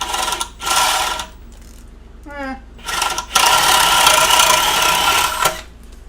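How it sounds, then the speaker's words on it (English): An Irwin Speedbor spade bit drilling into wood with a power drill, heard in loud bursts of whirring and grinding that start and stop, with a short whine between them. "it drilled just like the other one"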